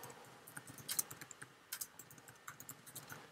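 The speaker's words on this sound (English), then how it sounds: "if I type in employment law," Quick, irregular clicks of typing on a computer keyboard, a light patter of keystrokes with a few louder taps, close and quiet with no talking.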